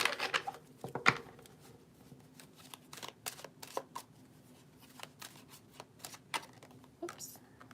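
Playing cards are shuffled in soft, quick riffling bursts, some faint and some sharper, with quiet pauses between.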